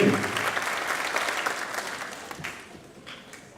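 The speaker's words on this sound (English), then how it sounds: "how about another round of applause for my colleague from the middle school, Michelle Smith" An audience at a 5th and 6th grade school band concert claps in a dense burst of applause that gradually fades over a few seconds.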